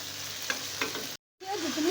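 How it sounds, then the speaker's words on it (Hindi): Okra and onions frying in a pan, a close steady sizzle with a couple of quick stirring scrapes, cut by a brief silent gap before the hiss resumes. "अब भिंडियों और प्याज दोनों को हम फ्राई करेंगे।"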